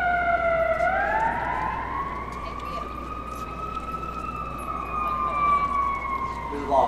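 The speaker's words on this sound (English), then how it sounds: "Of course, on set, we wouldn't have a siren at all." A wailing emergency siren rises and holds a steady, swooping tone, recorded from a bridge through a shotgun microphone, loud and continuous over low traffic rumble throughout.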